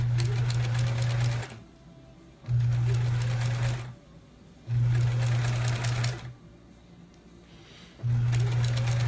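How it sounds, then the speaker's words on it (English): A sewing machine stitches quilt block pieces for a sampler quilt, running in steady bursts of about two seconds with pauses between, a close mechanical whir alternating with quieter gaps. "these are the two that from the side, from the left side that I have to sew together vertically."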